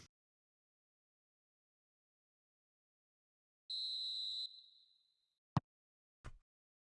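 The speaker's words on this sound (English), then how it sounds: "And there is the half-time whistle." In the eFootball PES 2021 football game, a referee blows a single clear half-time whistle that tails off, followed by two sharp thuds in an otherwise quiet stretch.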